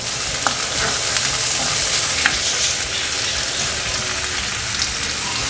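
Onions, garlic and ginger sizzle and crackle steadily in hot oil, with small pops scattered through the continuous frying hiss.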